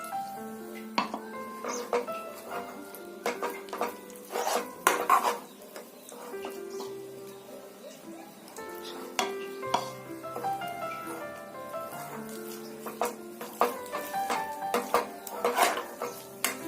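Sooji mixture is stirred in a pan as milk is added a little at a time for a semolina sweet, with repeated metal scrapes and clinks of a spoon against the pan and a soft sizzle underneath.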